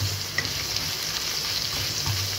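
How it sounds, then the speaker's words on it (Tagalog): Onion and garlic sauté in a pan with a continuous close hiss and crackle, with soft stirring movement throughout. "gigisa natin to sibuyas, bawang, 1 pan"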